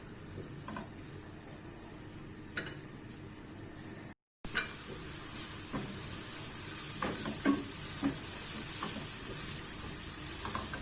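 Steady sizzling of onions frying in a pan, with occasional stirring clicks and scrapes, continuous and moderately close, briefly cut off partway.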